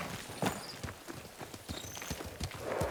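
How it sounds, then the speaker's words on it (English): Horse hooves clip-clopping in the Ghost of Tsushima video game, a steady walking rhythm of close, crisp hoof strikes over a soft ambient bed. "Horse!"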